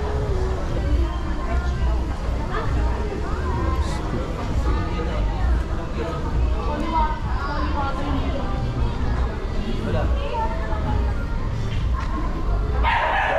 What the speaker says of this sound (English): Dami palang dog dito.